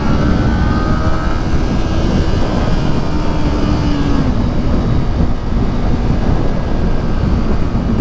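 A 2023 Kawasaki Ninja 400 engine accelerates in third gear, heard as a steady, loud, close drone mixed with heavy wind rush that holds throughout without a break.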